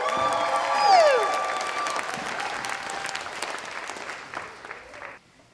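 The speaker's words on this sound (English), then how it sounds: "let's cheer on the artists and models" An audience at a wearable art show cheers and applauds the artists and models. Loud whoops and a whistle rise over dense clapping at first, and the applause then tapers off to quiet.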